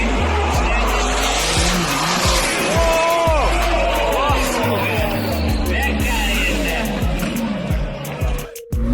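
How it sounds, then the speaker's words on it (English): A McLaren supercar crashes into an Audi R8 at a drift event: loud engines roar and tires squeal, with a chaotic burst of skidding, while people shout and talk over the noise. "McLaren crash into Audi R8."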